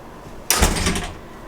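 A hotel room entrance door swings open with a single burst of broadband noise and a low thump, lasting about half a second before fading, close by.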